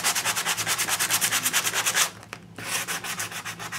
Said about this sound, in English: Noisy old sandpaper.